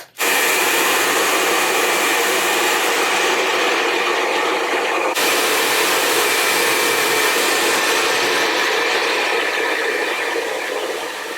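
Handheld hair dryer blowing steadily while drying hair before curling, loud and close for the whole stretch, with a brief shift in tone about halfway through and no talking.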